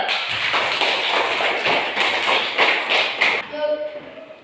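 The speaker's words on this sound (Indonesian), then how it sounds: "Kita tepuk tangan dulu." A school class claps hands together in a brisk, fairly even rhythm for about three seconds before it stops and a voice begins speaking.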